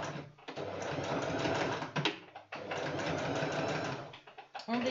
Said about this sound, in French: On va essayer de coudre dans le zigzag